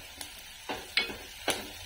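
Onion and coriander roast in a hot pan, giving a soft steady sizzle broken by three or four short crackling pops, close and without talk.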